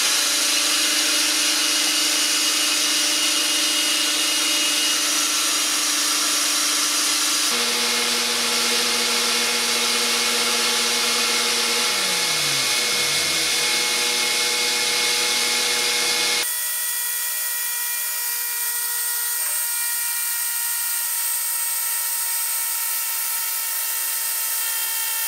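Makita 18V cordless blower running flat out, a loud continuous whirring roar that shifts pitch and drops in body partway through as another unit winds down, steady to the end.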